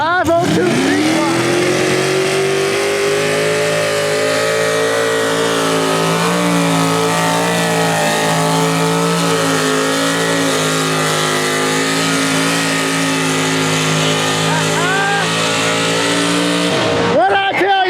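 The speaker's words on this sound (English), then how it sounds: "502 big block in this thing" A pulling tractor with a 502 big block engine roars at a county fair tractor pull, loud and sustained for the whole run as the revs climb and hold, then cut off at the end, with a voice talking over it.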